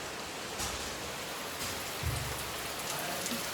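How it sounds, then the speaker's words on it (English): Rain pours steadily on an unfinished roof with no gutters during a storm, making a dense, even hiss with a faint low rumble midway and no voices. "with all the rain and there's no guttering on the roof yet, all of the water goes here"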